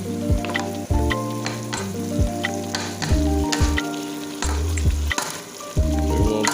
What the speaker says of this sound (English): We're finna chop this onion up and put it in the ground meat while it's frying up.